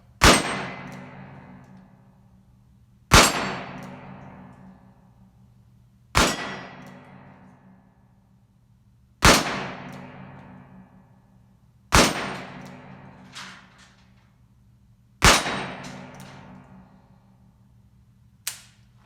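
Six sharp metallic clangs from an Uberti Cattleman 12-shot .22LR single-action revolver's rounds striking steel targets, spaced about three seconds apart, each ringing out and decaying, with no talking.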